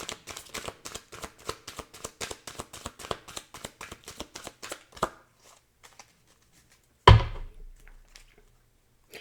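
Tarot cards riffle and shuffle in a rapid run of crisp, close flicks for about five seconds, then a pause and a sharp slap as a card is drawn and laid down, with no talking.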